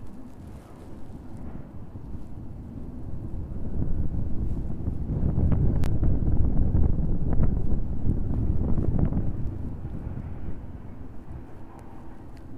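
Wind blowing at an airport, a steady rumbling gust buffeting the microphone that swells to a peak midway and then eases, heard alone without talk.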